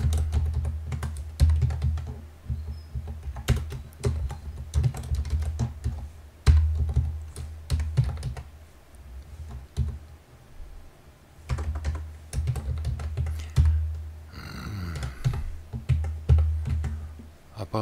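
Steady typing on a computer keyboard while writing C# code, dense bursts of close key clicks and thumps with a brief pause near the end, no speech over it.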